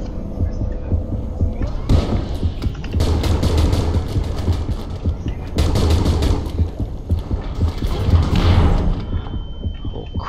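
Gunfire in the underwater video game Depths, several loud bursts of shots with a deep throbbing hum underneath, repeating in clusters across the stretch.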